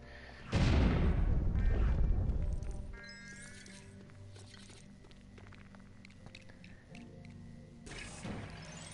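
A race car blown up in the Lego City video game: a loud burst of explosive rumble opens sharply and fades over two seconds, followed by quieter game sounds and a smaller thump near the end.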